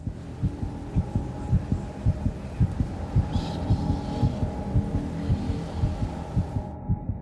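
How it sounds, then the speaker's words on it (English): A steady, deep heartbeat thumps in a regular double-beat rhythm over a low hum, close and prominent, lasting several seconds before cutting out. "I'm one with my heartbeat."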